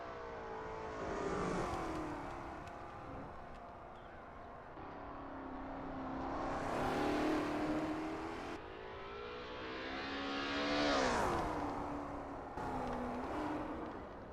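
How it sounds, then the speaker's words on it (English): A Lola T70 MkII Spyder race car in a sim racing game at Bathurst's McPhillamy Park, its engine rising and falling through repeated hard revs and gear changes, a steady loud drone with pitch sweeps and no talk. "That ASRL T70 MkII Spyder looks good driving through McPhillamy Park"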